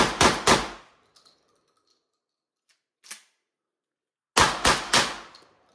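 Panzer Arms Turknelli shotgun firing outdoors, a quick burst of three loud sharp blasts, a lone fainter crack mid-way, then another rapid string of three shots.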